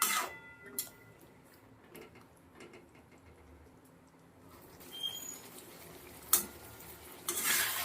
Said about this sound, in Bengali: গ্যাসটা মিডিয়ামে রেখে এভাবে মাঝে মাঝে নাড়িয়ে দিয়ে কষিয়ে নেবো।